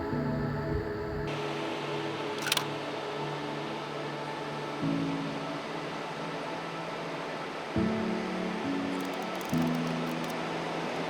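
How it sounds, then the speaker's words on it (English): Calm ocean waves washing in and out below sea cliffs with visible rock strata, a steady broad hiss of surf heard from a distance, mixed with a low droning hum. "The waves that day were so calm and beautiful that I wanted to keep watching them as they came in and out."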